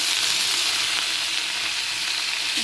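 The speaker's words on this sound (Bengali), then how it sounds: "এবার আমি দিয়ে দেব পেঁয়াজ দেবো আর দেবো 4টে কাঁচা লঙ্কা" Onions and green chillies frying in a pan with pointed gourd for a Bengali amudi fish curry, a loud, steady, close hiss and sizzle throughout with no talking.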